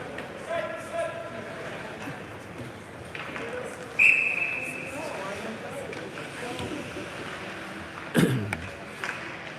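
A referee's whistle gives one short shrill blast at an 18U Tier 1 ice hockey game between Team Alaska and Omaha, cutting through arena crowd noise and puck clatter while a commentator talks throughout.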